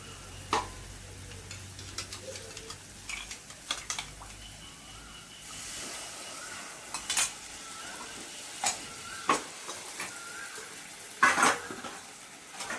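Egg kosha cooking with water in a pan, dhaba style: soft scraping and stirring taps with light clinks, scattered irregularly over a faint sizzle, close and quiet, no talking.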